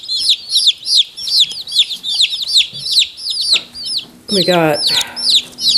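A box of newly delivered Cornish cross broiler chicks peeps constantly, a close, high chorus of chirps, while a person speaks briefly over it.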